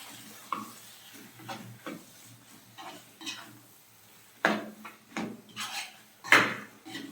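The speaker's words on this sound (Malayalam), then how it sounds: "ഇനി നന്നായിട്ടൊന്ന് ഇളക്കി കൊടുക്കാം" A spoon stirring chicken Mughlai curry with cashew paste in a pan, scattered scraping and clinking strokes at an uneven pace over a faint simmer.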